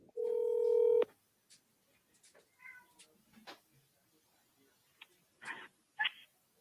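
Touch-tone telephone dialing, a quick burst of keypad tones lasting about a second as an outgoing call is placed, followed by near silence with a few faint, scattered sounds.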